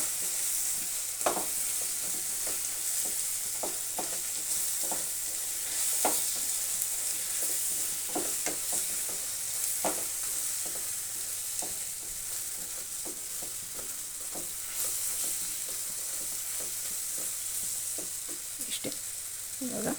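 Chili, coriander and turmeric powders are dry-roasted in a pan for a shahi chicken gravy. A continuous soft sizzle runs throughout, punctuated by irregular scraping ticks from a spoon stirring the spices.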